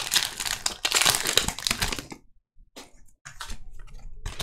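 Foil Pokémon booster pack wrappers being torn and crinkled open up close, loud bursts of crackling and ripping that stop briefly, then resume in shorter crinkly bursts.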